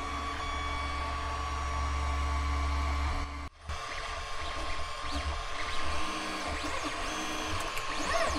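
A 3D printer runs steadily through the night printing a protective box for a sonar. Its motors hum and whir continuously and close by, with a brief dropout partway through before the drone resumes.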